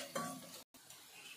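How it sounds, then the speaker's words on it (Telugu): A spoon stirs turmeric powder and salt into a frying curry, giving a quiet, brief scrape and soft sizzle interrupted by a short gap. "హల్దీ పౌడర్, పసుపు వేసుకోవాలి, అది కూడా కలపాలి. ఇట్లా కలపాలి బాగా మిక్స్"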